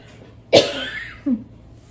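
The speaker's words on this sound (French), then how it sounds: "excusez-moi, le froid, ça me fait tousser." One harsh, close cough followed by a short, softer second cough, with quiet room tone around them.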